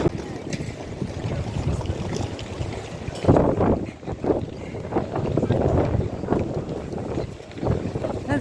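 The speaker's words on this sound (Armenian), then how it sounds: "այստեղ լավ ուժեղ քամի է" Strong wind gusting outdoors along a city street, roaring and buffeting the microphone with a heavy, rumbling low-end that surges and eases in uneven bursts.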